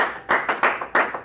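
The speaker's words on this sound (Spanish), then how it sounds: "Denle un aplauso a Cristo." Rhythmic clapping from a church congregation during an evangelical sermon, sharp unison claps landing in a regular beat, loud and close with no talk over them.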